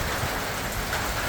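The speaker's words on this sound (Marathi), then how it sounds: "एकदम जोराचा पाऊस पडून राहिलाय." Heavy rain pours down in a steady, dense wash of noise that fills the whole moment, with no voices over it.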